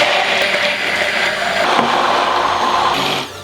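A hand blender whirs loudly while emulsifying vegetable oil into homemade mayonnaise, a steady buzzing motor drone that holds evenly for a few seconds before cutting off.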